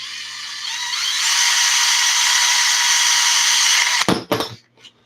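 A high-pitched drill spins an RC car center drive outdrive steadily against a metal file with a rasping, filing edge, then cuts off with a few clanks and knocks; close, no talking.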